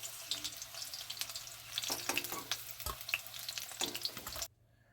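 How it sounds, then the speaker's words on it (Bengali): Whole boiled eggs frying in oil for egg curry, a close crackling sizzle with bright spits and a few stirring knocks, cutting off abruptly near the end. "ডিমগুলো লাল লাল করে ভাজা হয়ে গেছে"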